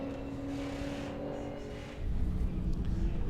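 Sports sedan race cars on a circuit, engines droning at a distance with a tonal whine, then a louder, rougher roar as a car closes in, partly masked by commentary.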